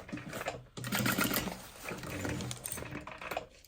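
A sewing machine stitches a short run of about two inches along a bag lining, with a close, busy rattling whir in stretches, pausing briefly between bursts, with no talking.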